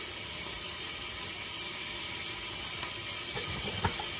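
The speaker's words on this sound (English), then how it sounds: "in another pot, I'm going to be pouring in some vegetable oil" Vegetable oil poured into a cooking pot while making chicken sauce, heard as a continuous soft hissing trickle under steady background noise, with a few faint clinks near the end.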